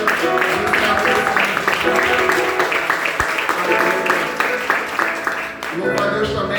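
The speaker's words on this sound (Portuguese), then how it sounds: "Gostaria que você aplaudisse ao Senhor pela vida dos servos." Church congregation applauding during an evening festival service, a steady wash of clapping over sustained organ or keyboard music and murmuring voices, fairly loud and continuous for several seconds.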